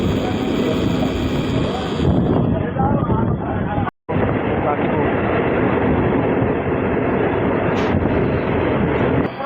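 A MEMU local train pulling away from Morgram station after a freight train, a loud, continuous rumble and wind roar heard from inside, with a brief dropout and a faint high tone near the end, under passing talk.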